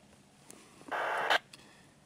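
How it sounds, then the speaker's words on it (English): Brief burst of hissing static, about half a second, from a contemporary FM analog handheld radio used for texting, standing out loudly against a quiet background. "The static you're picking up is a contemporary FM analog handheld."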